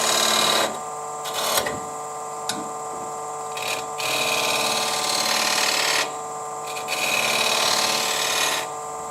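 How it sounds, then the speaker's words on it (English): Spindle gouge cutting a wooden tealight holder on a lathe: a steady scraping, hissing cut near the microphone with the motor hum beneath, swelling and easing as the tool takes passes, with brief pauses between. "just use my spindle gouge and take a bit off"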